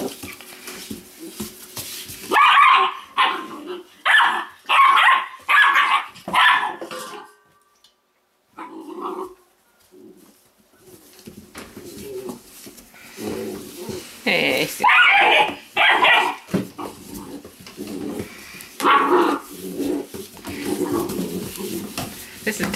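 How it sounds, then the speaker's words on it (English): Weimaraner puppies yip, bark and whimper in bursts while playing nearby, with a pause in the middle and a human voice talking at times. "These great Weimar puppies will play like this for about 10 minutes"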